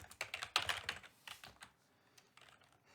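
Quick, irregular clacking of keys on a computer keyboard, close and clear, in bursts with brief pauses and no talking.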